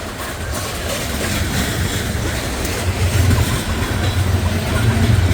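A train rumbles past on a cold, windy morning, giving a broad, steady low roar that swells slightly toward the end. No voices are heard over it.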